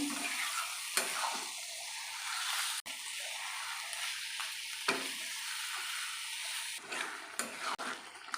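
Bombay duck (loitta fish) curry sautéing in a pan with no added water, giving a steady, fairly quiet sizzle and fry with occasional stirring scrapes and clatters.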